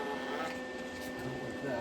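A welder switched to 110-volt mode and powered on to feed its wire gives a short, steady electric whir with a faint constant tone, holding level throughout at moderate volume.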